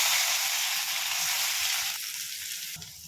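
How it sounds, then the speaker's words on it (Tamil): Chopped onion hits hot oil with cumin, curry leaves and asafoetida, giving a loud, steady, close sizzle that shifts slightly as it is stirred, with no voices. "அதுக்கப்புறம் பொடியாக கட் பண்ணி வச்சுருக்க ஒரு வெங்காயம் ஆட் பண்ணிக்கலாம்"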